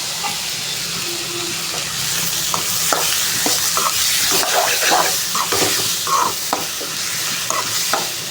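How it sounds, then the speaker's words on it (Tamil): Onions and tomatoes sautéing in a pan, a continuous close sizzle and hiss with scattered scraping and stirring clicks throughout. "வெங்காயம் வந்து நல்லா வதங்கிடுச்சு பாருங்கள் இப்போ தக்காளியும் நல்லா வதங்கட்டும்"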